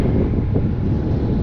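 Steady wind rushing and buffeting across the microphone while a HobbyZone Carbon Cub S2 RC plane flies in gusty conditions, a continuous broadband roar with no talk.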